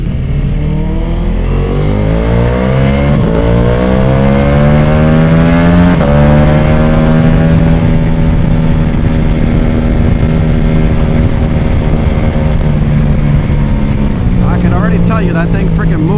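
Sport motorcycle, a BMW M1000XR or Ducati Multistrada Pikes Peak, accelerating hard and loud through the gears, its engine note climbing and dropping at each shift, with voices heard under the roar.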